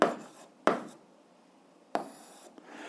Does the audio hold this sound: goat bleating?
no